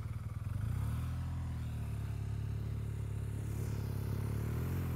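An off-road motorcycle at a riding clinic in Colorado idles low, coasting down before the clutch eases out, giving a steady, close, loud engine drone with a slight rise in the final seconds.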